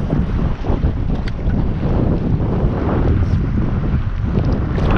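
Gusty, cool wind buffets the microphone in a constant low rumble while jig fishing, with faint water sounds underneath and no one speaking.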